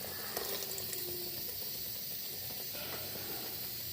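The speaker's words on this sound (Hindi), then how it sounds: "1 कप इसमें हम दूध डालेंगे" Milk poured into a pan of frying potatoes and spinach, a steady loud broadband sizzle and hiss throughout with faint clinks.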